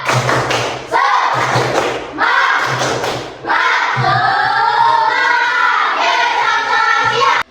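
A school class performs a rhythmic clapping chant, bursts of group claps and thumps in repeating patterns with short pauses between phrases, close and loud, with children's voices chanting along.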